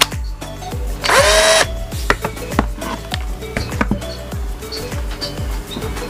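A McCulloch 12V cordless drill revs during an RPM test, with one sustained burst of motor whine and many short clicks and taps between runs, loud and close, with no talk.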